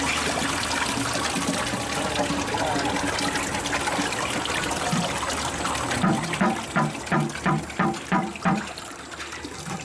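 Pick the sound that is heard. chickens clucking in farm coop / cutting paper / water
water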